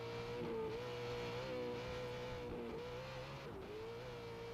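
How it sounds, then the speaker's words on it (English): An unlimited Trophy Truck's racing engine roars steadily during a SCORE Baja 500 qualifier, a loud, sustained high-revving drone with slight pitch dips as it shifts, close and alone. "Man, just listen to that motor."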